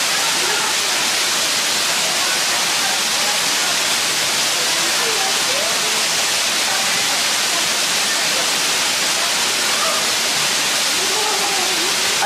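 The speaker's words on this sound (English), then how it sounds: "I hope you can hear me because the waterfall is pretty loud." Loud waterfall on a hiking trail, a dense, constant roaring rush of water close by that fills the whole stretch without letup.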